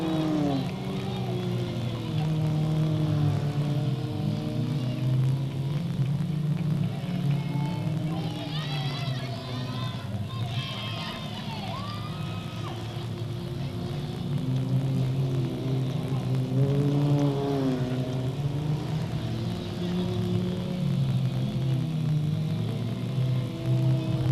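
Race cars lapping at Delta Speedway, engines droning and swelling as they pass at a distance under continuous talk.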